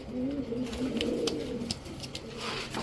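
A male dudh khaki pigeon from a high-flyer breeding line coos nearby in low, throaty, repeated phrases, with faint clicks and other birds in the background.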